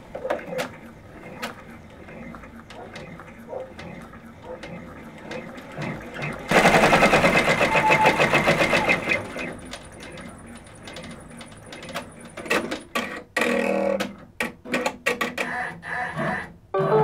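A Brother PR655 embroidery machine stitches onto the back of a shirt's left sleeve, starting with a loud, steady burst of rapid needle chatter, then continuing with quieter mechanical whirring and intermittent clicks and knocks.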